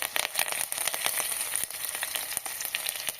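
Curry leaves fry in hot oil in a pan for a Kannada-style saaru, a loud, steady crackling sizzle with sharp pops throughout, close up and with no voices.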